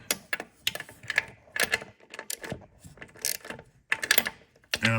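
A socket wrench ratchets in short bursts on a Tremec TKO transmission bolt in a Belair, irregular quick clicking runs close up with pauses between turns.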